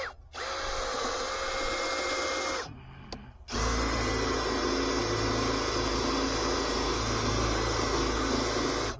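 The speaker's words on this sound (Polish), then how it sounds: "To wiercimy na 40 cm." A power drill with a short, sharp bit bores steadily 40 cm into wood with a loud, continuous whir, pauses briefly, then spins up again and keeps drilling, on a building site.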